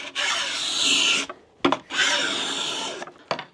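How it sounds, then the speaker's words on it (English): A small cabinet scraper rasps across a wooden workpiece in a joiner's shop, making two long, steady scraping strokes followed by short, sharp scrapes. The sound is close and clear, with no talking. "So that's a little cabinet scraper, always useful in a joiner's toolbox"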